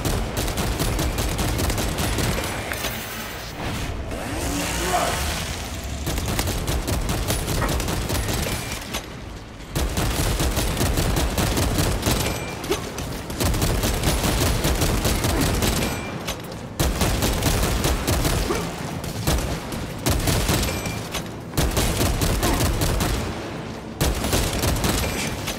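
Sustained rifle gunfire in Warhammer 40K Space Marine 2: dense, loud bursts of rapid shots with brief pauses between volleys, heavy and continuous.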